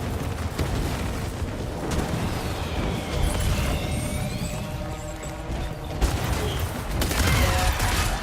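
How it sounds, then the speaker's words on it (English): Mortar explosions in the video game Death Stranding 2, a dense run of booming blasts and rumbling impacts that continues without a break, with no talking over it. "I think those are fucking mortars."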